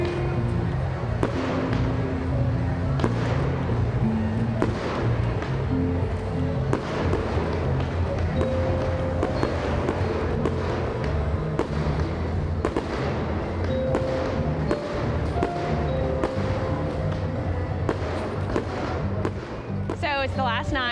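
Fireworks on the last night of a fair crackle and pop continuously for about twenty seconds, with steady sharp bangs layered over a rumbling crowd and faint voices nearby.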